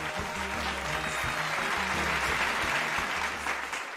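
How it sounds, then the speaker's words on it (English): A steady, full round of applause from an audience welcoming a graduate at a university graduation ceremony, continuous dense clapping throughout with no voices over it. "Let us welcome Lorato Mereki with a round of applause."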